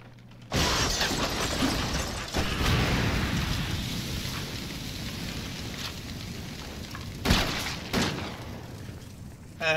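Shotgun flame round fired in Resident Evil 7, a loud broadband blast that bursts in suddenly and sustains as a roaring, crackling burn, with later sharp bangs and thumps near the end; no talking.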